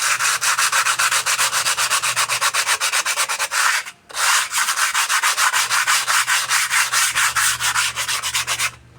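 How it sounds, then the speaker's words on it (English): Sandpaper rubbed back and forth over a surface being smoothed to look like original metal, a close, loud, steady rasping in quick even strokes that pauses briefly near the middle, then resumes, with a low hum underneath. "we're gonna take some sandpaper here and just kind of smooth."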